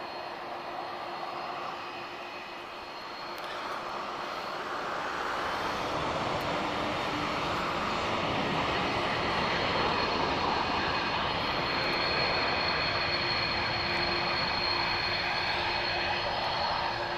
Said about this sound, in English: we do have a Ryanair about to depart